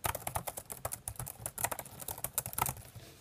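Rapid typing on a 2015 12-inch MacBook's butterfly-mechanism laptop keyboard, a steady stream of light, close clicking keystrokes for a few seconds, with no voices.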